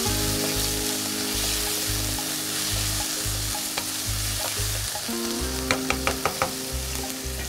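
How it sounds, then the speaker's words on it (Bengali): Crushed garlic sizzles and fries in a pan under a loud hiss, with a few sharp scraping stirs near the end over a pulsing background hum. "দিব 2 চামচের মতো পরিমাণ মতো রসুন ছেঁচা, এটাকে আরেকটু কষিয়ে নিব আমরা"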